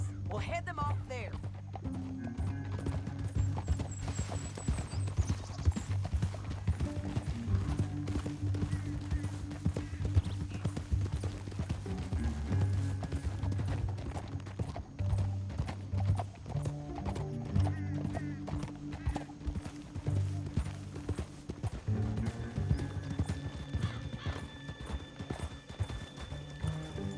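Horse hooves clip-clop steadily while riding in the video game Red Dead Redemption 2, a continuous rhythmic gallop with occasional whinnies, under a music score and characters talking.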